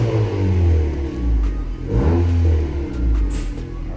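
A 1.5-litre Honda Accord fitted with a Borla S-Type exhaust revs up and down in repeated loud, close pulls, with a deep droning rumble and no talking over it.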